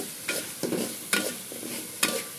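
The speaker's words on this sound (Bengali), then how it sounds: "দিয়ে আমি ভালো করে নেড়ে চেড়ে কষিয়ে যখন তেলটা উঠে আসবে" Spiced beef for Mezbani-style curry being stirred and fried in oil, with a few quick scraping strokes over a low sizzle, close and brief.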